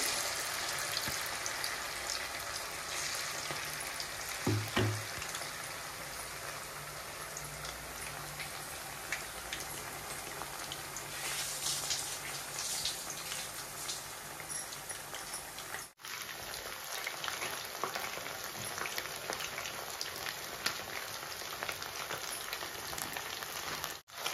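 Chicken pakodi pieces sizzle steadily in hot oil, a dense crackling hiss that runs loud and close throughout with no talk, dipping briefly before carrying on.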